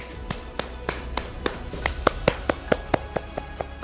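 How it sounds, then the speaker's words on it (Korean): A single person claps alone in a slow, steady rhythm, about twenty distinct sharp claps at an even pace, close and fairly quiet with no other sound. "박수를 혼자 치나요?"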